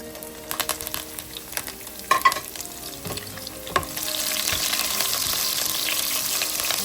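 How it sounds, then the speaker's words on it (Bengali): Garlic and green chillies drop into hot oil in a pan, first with scattered clicks and stirring clatter, then a loud, steady sizzle that swells and carries on to the end. "তেলটা গরম হয়ে এসেছে, আমি আগে রসুনগুলো দিয়ে দেবো"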